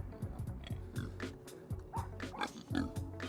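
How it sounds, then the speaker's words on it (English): Pigs in a pen at a farm with dog kennels, grunting and snuffling in short repeated bursts, low and fairly close, mixed with occasional yips that may come from dogs nearby. "These are the piggies."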